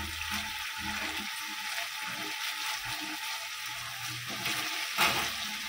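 Potatoes and country beans cook in a tomato gravy, giving a steady sizzling hiss with low bubbling and occasional soft stirring knocks, and one brief sharper clink near the end; no one talks.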